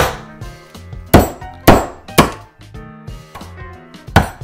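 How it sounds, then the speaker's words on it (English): A hammer strikes peppermint candies sealed in a plastic bag, giving six or seven loud, sharp whacks at an uneven pace, each followed by crunching and rattling of the broken candy. "take a hammer."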